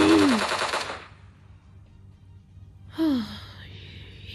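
Bursts of automatic gunfire in PUBG, a dense rapid volley at the start and another burst near the end, with a quiet gap between; a brief vocal gasp-like sound appears alongside the shots.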